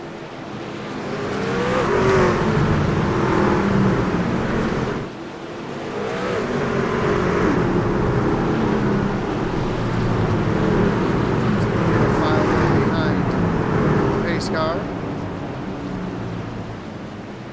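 Race truck engines droning and revving during warm-up pace laps at Nashville Fairgrounds in a racing game, a steady loud roar that dips briefly and swells again, with a commentator talking over it.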